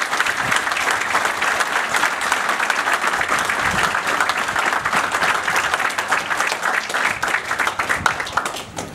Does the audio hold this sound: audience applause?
yes